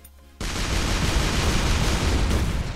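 A rapid-fire weapon in ShellShock Live kicks in abruptly after a brief quiet moment, then a loud, continuous, noisy burst of shots runs without pause to the end.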